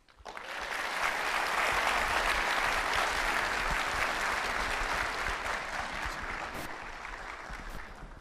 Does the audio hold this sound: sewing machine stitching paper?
no